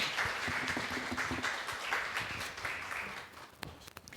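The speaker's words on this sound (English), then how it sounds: "Can we get one more round of applause for this amazing panel?" Scattered clapping from a small audience after a panel at a disability and workplace event continues for a few seconds, moderately loud and gradually thinning out toward the end.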